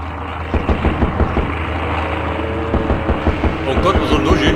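Aircraft engines drone in a Sudden Strike Forever battle, a steady low rumble layered with rhythmic thumps and clatter, moderately loud throughout.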